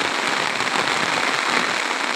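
Steady rain pours onto the Baranai river at Teghoria ghat in Naldanga, Natore, a dense, even hiss of drops close by with no voices.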